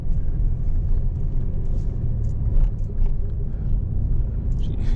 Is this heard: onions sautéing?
no